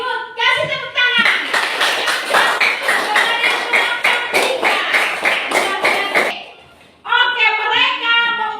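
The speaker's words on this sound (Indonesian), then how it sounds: "Kasih tepuk tangan" Applause for children's nature posters and slogans in an Indonesian classroom, a burst of clapping from the group lasting about five seconds between stretches of a teacher's talk, fading out before she speaks again.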